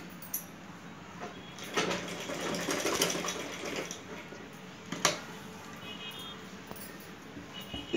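Sewing machine stitching along folded fabric at a garment hem, running in short bursts with brief pauses between, moderately close with some handling noise.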